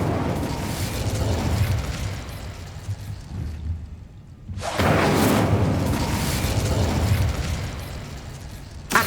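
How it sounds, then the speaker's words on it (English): The Incendio fire spell in Hogwarts Legacy erupts in a loud, booming burst of flame after a brief lull, followed by a sustained fiery roar over steady background rumble. "Incendio!"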